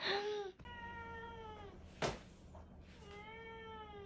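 A cat meows close by in several drawn-out, tonal cries, with a brief rustling thump between them in a quiet room.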